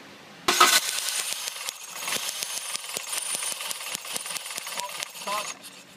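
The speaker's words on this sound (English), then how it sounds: "Okay, go ahead, crank the engine." A car engine cranks on the starter during an ignition coil and spark plug wire test, giving a steady run of rapid mechanical clatter and ticking with a sharp burst at the start, close and fairly loud.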